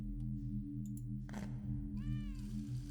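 A cat in the fantasy role-playing game Pillars of Eternity gives a clear rising meow near the end over a steady low musical drone, with a few faint ticks and a soft rustle before it.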